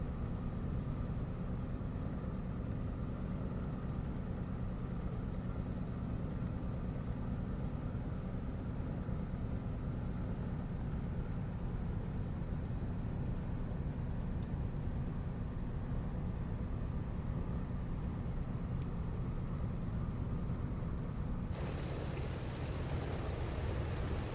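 Cessna 195 Businessliner single-engine aircraft in a flight simulator sound pack, its propeller engine droning steadily and loudly throughout, with the tone shifting near the end.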